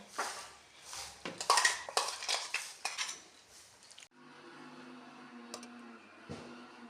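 A few seconds of clattering dishes and metal, then a mixer grinder starts up grinding roasted coconut with a steady, loud whirring hum.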